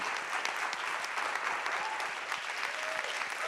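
Audience applause at a French film-industry conference launch event, a dense steady wash of many hands clapping for the full few seconds, moderately distant, with a faint voice briefly audible underneath.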